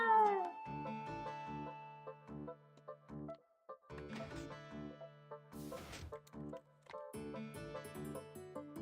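A cat meows repeatedly, a string of clear, drawn-out, tonal meows close to the microphone with short pauses between calls.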